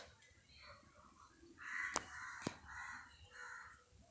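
A crow caws several times at close range, harsh repeated calls over a faint hiss, with two sharp clicks cutting through midway.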